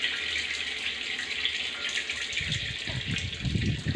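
Tap water pours steadily into a drum being filled to mix fertiliser for chili plants outdoors, a continuous close hiss and gush with a deeper splashing rising toward the end.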